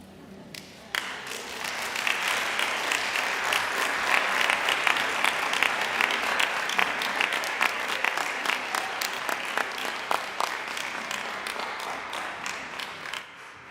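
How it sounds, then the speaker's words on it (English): A congregation at a Sunday service applauds Andy France: sustained clapping starts abruptly and stays dense and even, with a few sharper individual claps standing out before it cuts off at the end. "Folks, another round of applause for Andy France here."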